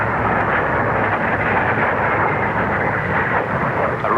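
A rocket-equipped Scorpion aircraft climbs at the 1950 Farnborough air show, its engine a loud, continuous, broadband roar that holds steady throughout with no voices over it.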